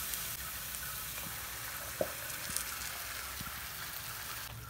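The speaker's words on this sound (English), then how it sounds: "Now fry this tomato puree till it releases oil" Tomato puree frying in a pan for an Indian rajma masala gravy, giving a steady soft sizzle throughout with a single brief clink of utensil, no talking.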